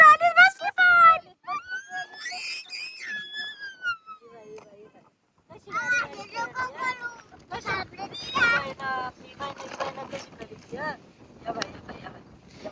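A kitten meows several times in a high, wavering voice, close by, with people talking around it in a home where it sits in a toy car.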